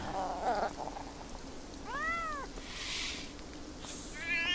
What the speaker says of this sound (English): Real pissed off cat noises.